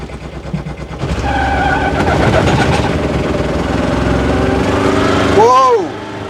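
Aixam Mega Van microcar engine with a CVT gearbox while reversing: a close, steady droning engine note with whining harmonics that rises slightly, then cuts back near the end.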